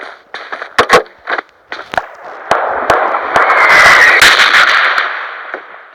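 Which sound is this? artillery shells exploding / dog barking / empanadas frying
artillery shells exploding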